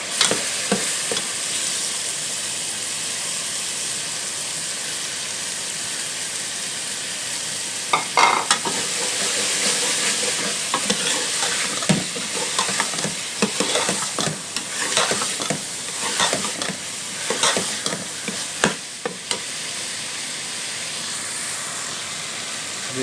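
Soaked chana dal and mash dal fry in a pan with a constant, close sizzling hiss, broken by bursts of stirring and scraping from a spoon about halfway through.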